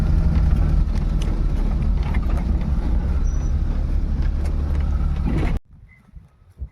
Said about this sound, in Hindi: फिलहाल मैं अब गाँव में से चक्कर लगा के आता हूँ इस गाड़ी से